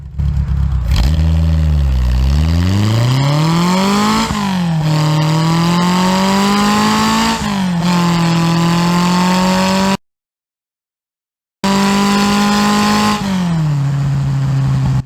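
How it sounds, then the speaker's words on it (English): A Simca 1000 Rally 2 accelerates hard from a standstill in Spain, its engine revving up through several gears with rising and falling pitch at each shift, loud and close, with a brief dropout near the end. "let's see how quickly it accelerates"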